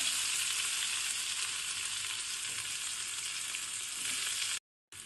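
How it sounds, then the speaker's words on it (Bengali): Chopped onion fries in hot mustard oil with a steady, even sizzle throughout, cut off abruptly by a short silence near the end. "তেলটা গরম হয়ে গেছে, এর মধ্যে আমি দিয়ে দিচ্ছি কুচানো পেঁয়াজ"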